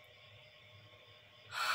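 A voice imitates an aardvark snoring: a low, steady breathy rumble ends in one sudden, loud, rasping snort.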